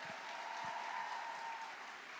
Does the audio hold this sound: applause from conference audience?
yes